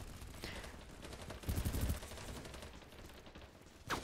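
BattleBit Remastered gunfire rattles in rapid bursts, fairly faint and under a noisy battlefield, with a louder volley in the middle and a brief sharp crack at the end.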